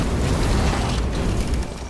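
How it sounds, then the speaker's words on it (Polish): A heavy explosion in the action game Lies of P, a dense, loud booming roar with deep low rumble that fills the whole two seconds before easing off slightly at the end, no speech. "Samo to walnięcie tej eksplozji w sumie nie bije dalej."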